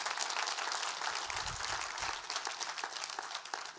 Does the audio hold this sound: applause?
yes